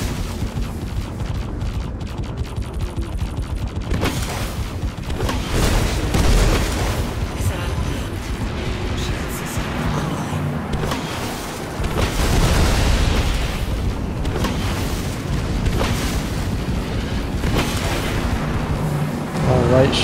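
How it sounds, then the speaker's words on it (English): Missile hits and explosions rumble almost continuously in a space combat video game dogfight near Port Olisar, with loud booms and bursts layered over one another while someone talks. "Yeah, we're getting hit up by missiles."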